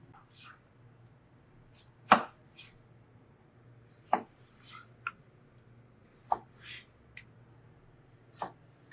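A knife chops tomato and bell pepper on a board, a handful of sharp, separate knocks spread unevenly over a quiet background with a low steady hum.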